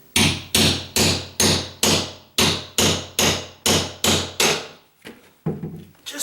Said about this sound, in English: nail puller